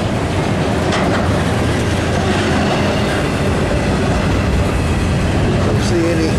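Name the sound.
freight train passing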